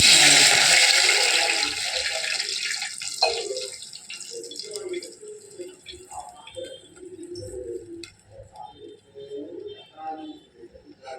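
Water runs and splashes steadily into a pan with ghee for cooking vermicelli, loud at first then tapering into softer trickling and gurgling, with faint clinks of cookware.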